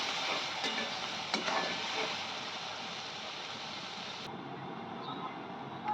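Mutton goes into a pan of well-fried onions and salt, giving a loud, continuous close sizzle and hiss of frying with a couple of faint utensil knocks throughout.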